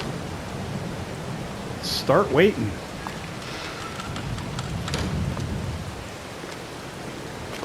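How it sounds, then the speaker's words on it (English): Rain and thunder sound in the farming game Farming Simulator 22, a steady wash of rainfall with a low rumbling swell, while someone speaks briefly over it. "Hopefully the rain will be stopping."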